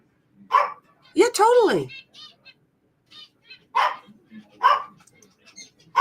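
Several dogs bark in short, loud, close bursts with a drawn-out howling yelp among them, in the room while a person speaks briefly.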